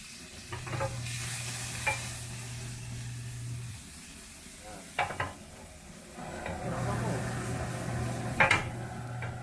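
Garlic fries in oil with a soft sizzle under clanks of a spatula on the pan and brief bursts of stirring, while a low hum comes and goes.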